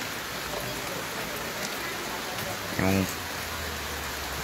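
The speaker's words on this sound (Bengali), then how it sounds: "মুষলধারে বৃষ্টি হচ্ছে এই মুহূর্তে, দেখতে পাচ্ছেন।" Heavy rain pours down in a steady, dense hiss during hot weather, with a voice briefly speaking under the downpour.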